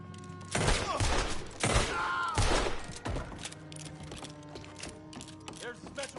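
Gunfire in the Red Dead Redemption 2 video game: a few loud, quick bursts of shots early on, then quieter scattered cracks, with a voice shouting in between.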